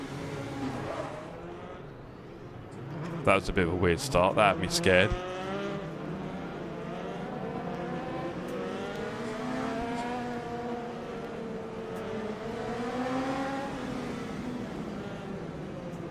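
Race car engine in the Le Mans Ultimate sim racing game during a community race start, a droning, rising and falling engine whine under steady talk, with a brief burst of sharp mechanical noise early on.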